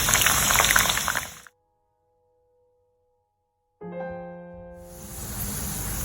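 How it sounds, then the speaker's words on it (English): Onions frying in hot oil make a loud, dense hiss that cuts abruptly to silence. A faint tonal hum follows, then the crackling hiss returns. "Our oil is hot and ready, so let's fry these onions and until they are nice golden brown and crispy"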